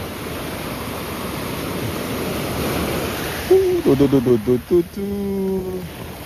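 Ocean waves wash onto a beach at night in a soft, steady hiss of surf, then someone speaks over the continuing wash of the water.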